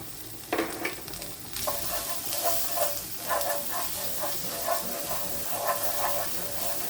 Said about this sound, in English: I'm going to put in the tomato puree.